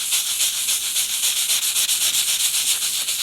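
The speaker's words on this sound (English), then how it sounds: "Let's take this plate and start sanding it" Fine sandpaper rubs over a copper plate in steady, regular strokes, making a close, continuous rasping hiss with a rhythmic pulse and no talking.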